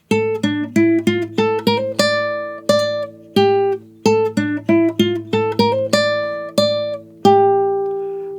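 An acoustic guitar plays a freely timed theme from A Plague Tale: Innocence in 3/4, with clear plucked notes and ringing chords. It sounds close and alone, without speech.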